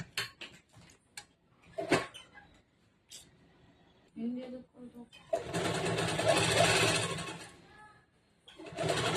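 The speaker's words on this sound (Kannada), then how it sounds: "ಇದ್ರ ಮೇಲ್ಗಡೆ ಇನ್ನೊಂದು ಹೊಲಿಗೆ ಹಾಕ್ರಿ" A sewing machine stitches a seam on a princess-cut, boat-neck blouse: a few seconds of close, steady mechanical whirring follow scattered handling clicks, with a person talking before and after the run.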